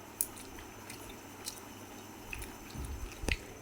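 Roti with curry being eaten: soft, faint, wet chewing and squishy bites close by, in scattered bursts with quiet gaps between.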